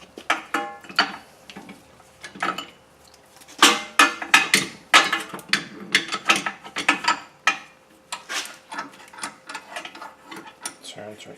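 Brake caliper piston on a Honda Odyssey being wound slowly back into its bore, giving close, irregular bursts of metallic ratcheting clicks and scraping, grouped in uneven turns with short pauses between them.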